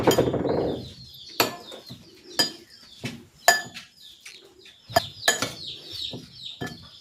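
A spoon stirs grated coconut with sugar and a little salt in a bowl, making scattered, sharp clinks and scrapes at an uneven pace, while chickens cluck nearby.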